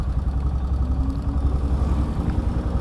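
A 2018 Royal Enfield Himalayan motorcycle engine runs with a steady, thick, low rumble close by, alone, with no talk.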